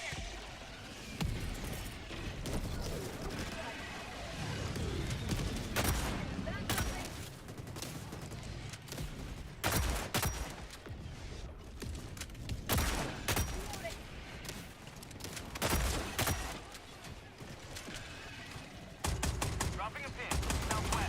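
An incoming barrage hits in an online shooter, a long stretch of dense, loud explosive bursts and rapid gunfire-like cracks, with a voice talking over the din at times.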